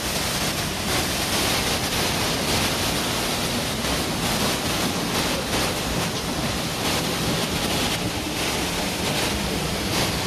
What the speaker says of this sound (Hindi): और निर्मल जल यहाँ पे बहता है